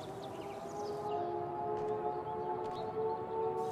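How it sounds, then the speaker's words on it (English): A wailing civil-defense-style siren sounds in the Life is Strange True Colors video game, a sustained tonal drone with steady pitch layers, heard alone at moderate level with faint higher tones above. "Sirens?"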